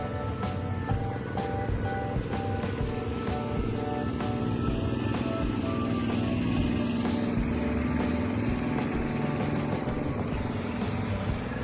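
A small boat engine on a canal drones steadily and fairly loudly at a constant pitch, with faint clicks and knocks over it and no voices.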